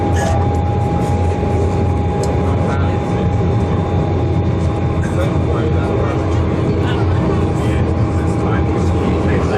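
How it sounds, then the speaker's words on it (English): Adelaide Metro train pulling into Goodwood Station, a loud continuous rumble and drone with a steady tonal whine running throughout, heard up close without any talk. "Trains just coming into the station."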